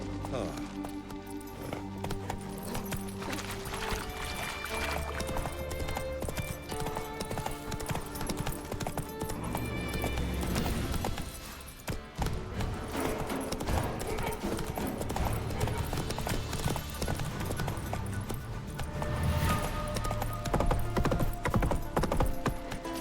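Roach, the horse in The Witcher 3 video game, trots with a steady clip-clop of hooves that runs for the whole stretch under loud game music, with a brief dip near the middle.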